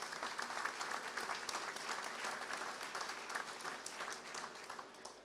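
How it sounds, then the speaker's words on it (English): An audience at the Paris Air Show 2019 USA Partnership Pavilion launch ceremony applauds steadily, a dense wash of many hands clapping that holds strong throughout with no talking. "I'd like to have a round of applause for all of our partners this morning."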